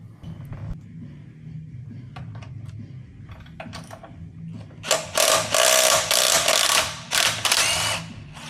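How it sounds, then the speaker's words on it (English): Ratchet loosening a motorcycle axle nut on a Honda Grom, preceded by light clicks and handling noises, then a loud close run of rapid ratcheting bursts with brief pauses. "It's literally just taking the axle nut off and sliding it out."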